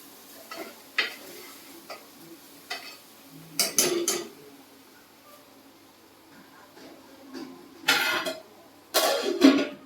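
Brinjal curry base is stirred in a metal pan for a brinjal palya served with jowar roti. A spoon scrapes and clinks against the pan in irregular bursts, with quieter shuffling in between.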